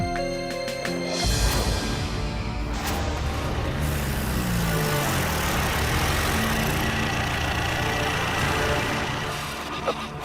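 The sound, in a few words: car engine running as the car stops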